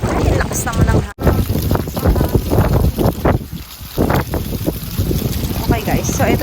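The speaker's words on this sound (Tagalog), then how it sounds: "Ay, lakas naman ng hangin." Strong wind buffets the microphone outdoors beside a school in Edmonton, Canada, a loud rumbling gust that roars steadily under a person talking throughout.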